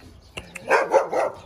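A dog barks a couple of short, sharp times nearby, then lets out louder drawn-out whining barks, alone with no talk.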